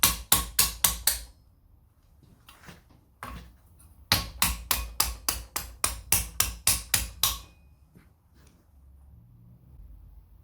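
Metal lame being hammered over the curved horn of an anvil: sharp, ringing close strikes in quick rhythmic bursts, a run of about seven, a few scattered taps, then a longer run of a dozen or so.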